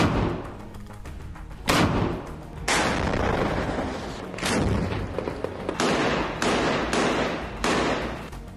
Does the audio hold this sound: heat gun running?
no